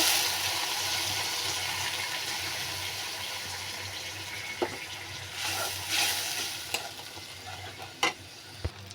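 Spices sauté in a cooking pot with a steady, hissing sizzle that fills the space, broken near the end by a few sharp clinks and scrapes of a utensil against the pot.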